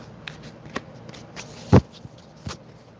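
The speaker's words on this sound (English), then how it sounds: "All right, I'll do a little more shuffling." Playing cards being shuffled close by, with soft riffling and a few sharp snaps and taps, including one loud slap midway.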